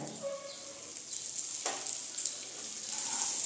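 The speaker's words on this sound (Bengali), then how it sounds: "এর মধ্যে আমি এখন দিয়ে দিচ্ছি এই যে ঘিটা" Ghee goes into a Bengali bhuna khichdi base with ginger paste and is stirred in, giving a steady soft sizzle and frying crackle close by, with a few scraping stirs and no talking.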